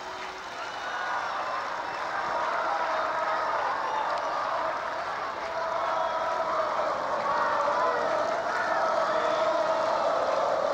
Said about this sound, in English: The fans from Argentina cheering Gabriela Sabatini